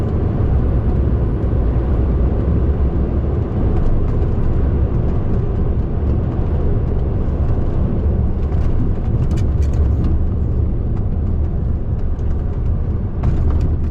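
A car cruising on a country road with cruise control set at 56 gives a steady, loud drone of engine, tyre and wind noise from inside the cabin, unbroken throughout with no talk.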